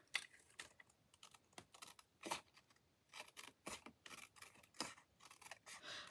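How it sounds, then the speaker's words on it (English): Scissors snipping around the edge of a handmade paper envelope, a series of sharp, close, irregular cuts and rustles spread over several seconds with quiet pauses between, no talking. "So let me just cut around."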